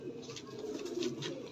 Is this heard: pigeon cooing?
yes